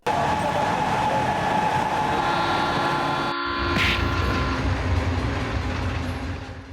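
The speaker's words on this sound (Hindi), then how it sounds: "2:15 बजे और ट्रेन तो रुक भी रही है" Passenger train slowing to a stop, a loud continuous rumble of wheels and carriages with a steady rolling roar and a short break midway, gradually easing off toward the end.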